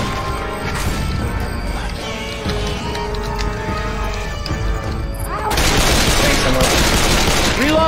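Sustained turret gunfire in a Left 4 Dead 2 zombie battle, loud, rapid and continuous, growing heavier and denser near the end, with game chaos and talk mixed in.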